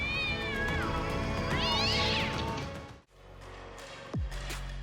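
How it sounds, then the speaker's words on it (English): A cat caught in a fight with a kangaroo gives long, loud, wavering yowls and caterwauls, close and continuous, breaks briefly, then lets out a sharp falling cry. "The cat made the right choice."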